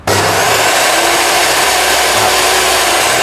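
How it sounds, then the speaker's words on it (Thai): A Bosch GTS254 table saw motor starts abruptly with no soft start and then runs at a loud, steady whine with an even, unchanging hum and no talking. "ด้วยความเป็นบอสจะมีความเสถียรแล้วว่ามอเตอร์เดินจะเสียงนิ่งนะครับ"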